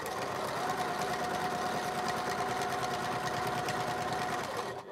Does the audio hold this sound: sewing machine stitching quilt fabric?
yes